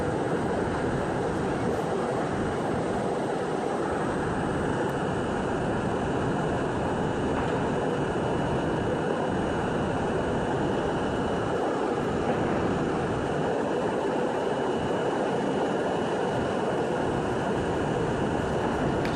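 A 1964 Budd R32 car on a Euclid Avenue-bound NYC subway C train runs with a loud, steady rumble and rattle of wheels on track, a constant roar with no voices.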